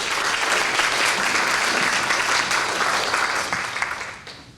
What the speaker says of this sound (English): So let's give Tracy a round of applause.